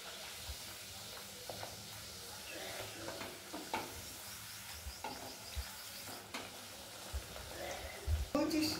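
Luchi, Bengali puri made with curd, frying in hot oil, with a soft sizzle and hiss, occasional utensil knocks and a few louder bursts near the end.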